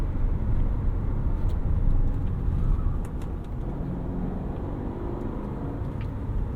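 A 2022 Subaru Crosstrek Sport's engine drones steadily from inside the cabin while driving in manual mode with paddle shifting, a constant low road-and-engine rumble with a slight drop in level midway.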